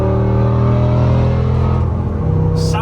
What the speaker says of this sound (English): Now with the exhaust open, you hear the exhaust as well.